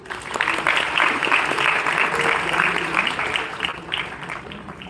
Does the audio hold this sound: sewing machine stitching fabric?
no